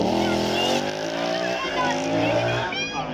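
A former drift champion's car slides at a supercar weekend demonstration run at Beaulieu. Its tyres squeal loudly and continuously over a strained, revving engine, with the squeal rising and falling and the car close by throughout.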